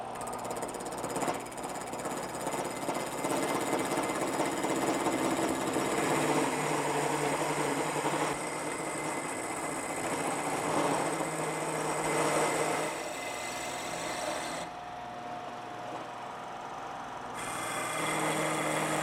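Steady, loud machine whine of a cutter grinding away wood stock on a key-machine-style copying tool, continuous and droning with slight shifts in pitch, no talking.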